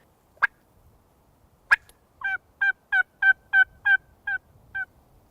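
Two sharp clucks or calls, then a wild turkey gobbles in a rapid, rattling burst of about eight pulses, fairly distant and carrying across open ground down a long brush-country clearing in Texas.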